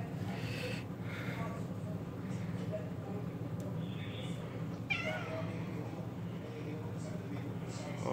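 A domestic cat meowing close by, a couple of brief rising mewing calls over a steady low indoor hum, with a person speaking softly nearby.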